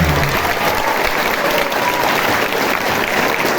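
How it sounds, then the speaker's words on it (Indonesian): An audience at a Ramadan Nuzulul Qur'an religious gathering applauds loudly and steadily, a dense crowd clapping that fills the whole moment without a pause. "Aplaus untuk teman-teman."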